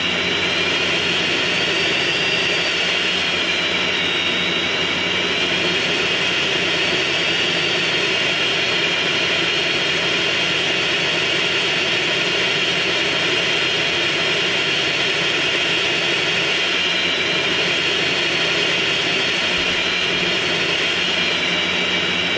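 A plane engine in the video game GTA San Andreas drones loud and unbroken, a steady whining roar holding at one level throughout with no voices over it.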